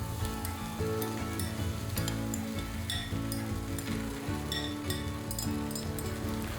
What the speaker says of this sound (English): And finally, I'll add the sabudana mix.